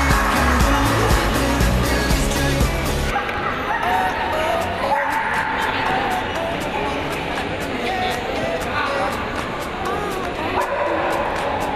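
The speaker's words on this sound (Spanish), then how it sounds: "el día del mejor amigo del hombre, el perro." Dogs bark and yip repeatedly at a dog show in a sports hall in Cubillos del Sil, El Bierzo. The sound is loud and continuous, with a busy crowd and voices mixed in throughout.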